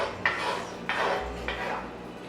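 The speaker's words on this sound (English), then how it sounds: "I'm going to put some olive oil and the garlic until it's like nice and fragrant" Garlic and olive oil in a skillet, heard as three distinct clanks and scrapes of a utensil against the pan, each followed by a short fading sizzle-like hiss, close and fairly loud with no talking.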